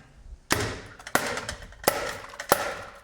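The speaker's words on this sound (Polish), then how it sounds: "teraz młoteczkiem delikatnie potraktował" Four sharp metallic taps from a small hammer on a Lancia Delta 1.4 turbo car part ring out at a steady pace, each a crisp strike with a short ringing decay, set against faint background noise.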